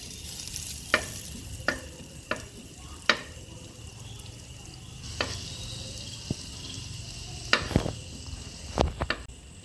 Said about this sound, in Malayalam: പാത്രം ചൂടായിട്ടുണ്ട് അപ്പോൾ ഇതിലേക്ക് നമ്മൾ ബട്ടറാണ് ഇട്ട് കൊടുക്കുന്നത്